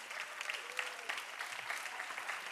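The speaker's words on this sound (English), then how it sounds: "Please join us in having a great round of applause for our makeup wizard." Steady applause from a crowd, sustained clapping throughout without pause.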